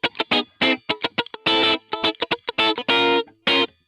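An electric guitar played dry with no reverb, giving short, choppy, distorted chords and stabs that stop abruptly between hits, close and loud.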